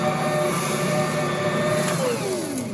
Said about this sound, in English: The dough is mixing